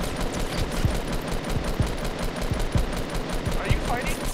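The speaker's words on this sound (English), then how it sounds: "Oh, he shot at me." Gunfire in a Fortnite match cracks out in sharp, evenly spaced shots of moderate loudness, mixed with busy game noise.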